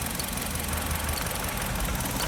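A Nissan Tiida or Kia Sportage engine idles roughly with a fuel injector cut on one cylinder, giving a close, uneven, knocking misfire rhythm beneath a constant mechanical hum.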